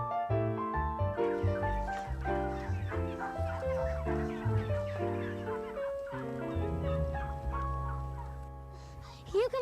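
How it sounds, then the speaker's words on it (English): Live turkeys on a farm fill the air with steady, overlapping gobbling calls in loud, tonal bursts that continue throughout, with no talking. "But Buzz, these turkeys are live"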